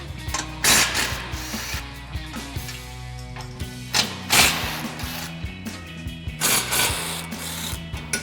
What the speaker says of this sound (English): We're gonna switch to a 17mm socket and take these 2 out and then these 2 for the hook.